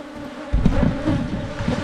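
Honey bees buzz around a weak hive box with no super added, a dense, steady, close drone that swells louder partway through and holds with no talking.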